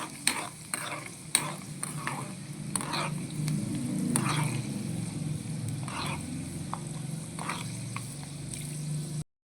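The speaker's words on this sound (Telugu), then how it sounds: "మంచిగా బాదం జీడిపప్పు ఫ్రై అవ్వాలి." Almonds and cashews frying and being stirred in a pan for Telugu-style curry leaf pongal, a steady close sizzle with repeated scraping stirs and light pattering throughout, no voices.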